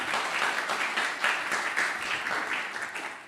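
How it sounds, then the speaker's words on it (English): Audience applause for startups at a health tech accelerator final pitch event, steady and full clapping from a sizable crowd that holds for a few seconds before easing off. "let's give a big round of applause to all our startups who are celebrating today"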